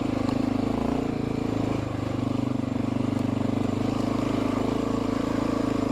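A Honda XR650L motorcycle riding along, its single-cylinder engine droning steadily and loudly with a brief dip in revs midway, wind noise over the top.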